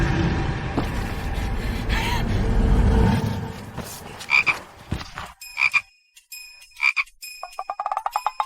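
Frog croaks used as a sound effect for a martial-arts frog technique ring out in short bursts, first over a rumbling swell, then as a quick run of sharp, rhythmic croaks alone near the end.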